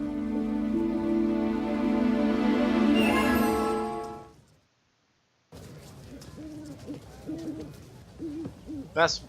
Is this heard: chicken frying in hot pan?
no